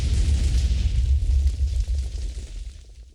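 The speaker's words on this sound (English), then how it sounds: "Well, that was a lot of explosions." Rapid overlapping explosions from the Minecraft StoneBlock modpack game roar in a dense, rumbling burst that starts loud and gradually tapers off over about three seconds, with no talking.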